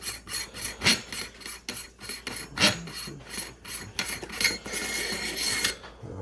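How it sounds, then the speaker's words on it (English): Rasping, scraping threads of a barrel shroud being unscrewed on a 12 gauge AR-style shotgun, a close series of gritty rubbing turns with brief pauses between twists. "You're going to unscrew this barrel shroud here."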